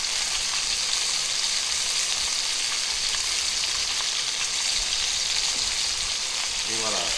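Veal tendrons sear and brown in a hot pan, giving a loud, steady sizzle that runs without a break. Near the end some stirring or scraping comes through.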